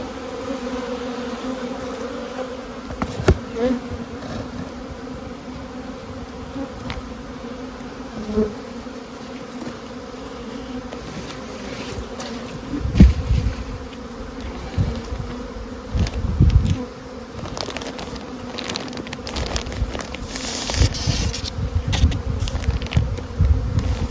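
Honey bees drone steadily around an opened small hive during a spring feeding round, a dense continuous buzz close by with occasional louder passes of individual bees and faint handling noises.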